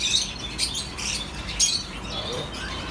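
Birds in a bird shop chirp in quick, high bursts over a steady low hum of room and background noise, with no talking.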